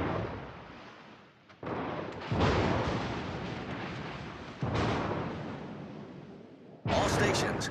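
Naval guns fire in a video game, a destroyer trading shots: a series of heavy booming blasts with long rumbling tails, three or four loud reports in succession.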